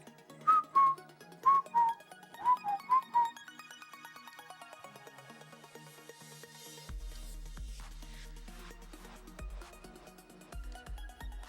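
A person whistling haltingly during a classic Tetris competition: a run of short, wavering two-note whistles, then a busier stretch of game-like tones and electronic notes underneath.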